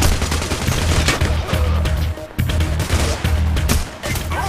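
A firing squad unleashes dense, sustained gunfire in the video game Payday The Heist, loud overlapping volleys rattling almost continuously for several seconds, with only a brief dip near the middle.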